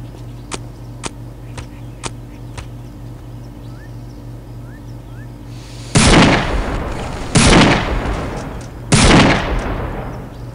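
Gunfire in the video game Postal 2: three loud, sharp shots about a second and a half apart, each with a ringing tail, following a stretch of quiet ambience with faint clicks.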